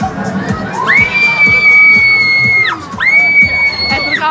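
A child screams loudly and repeatedly while trying virtual reality, with two long sustained high shrieks over a noisy room and an adult voice talking in the background.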